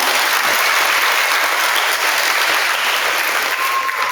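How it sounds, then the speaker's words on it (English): Sustained applause from an audience at a fourth-grade school awards day fills the room, a dense, steady clatter of many hands that stays loud and even throughout without pause. "Let's give Miss Morris's kids another round of applause."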